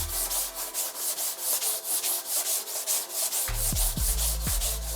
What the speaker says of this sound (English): I'm just going to sand the whole wing down with the 100 grit sandpaper.